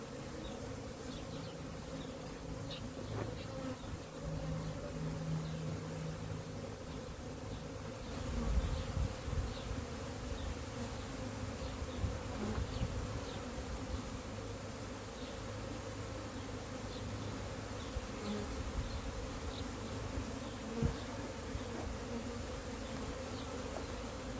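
Honeybees buzz around an open hive during a spring inspection, a dense steady hum of many insects close by with faint handling noises over it.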